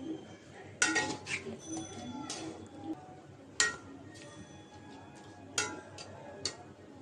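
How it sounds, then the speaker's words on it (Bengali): A metal lid set down on a cooking pot of jackfruit seeds, spices and dried fish, giving a few sharp clinks and clanks spread across the moment against a low background hum. "ঢাকনাটা দিয়ে রাখলাম"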